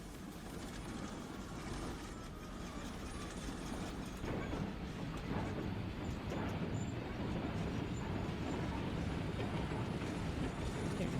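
Video-game train rumbling steadily along the rails, a dense continuous low clatter with faint mechanical ticks and a slight swell in loudness midway.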